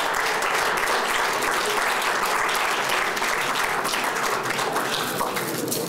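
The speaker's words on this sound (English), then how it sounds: "let's give them all a round of applause" Sustained applause from a large audience at a nonprofit awards gala honoring charity workers, a dense, steady wash of many hands clapping close and loud for the full length, with no voices over it.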